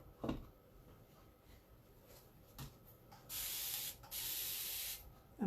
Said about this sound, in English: clean my fingers a bit with my spray bottle